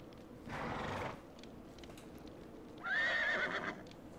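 A horse in the video game Breath of Fire IV whinnies twice in short, quiet bursts over a low background hum, the second call higher and shriller.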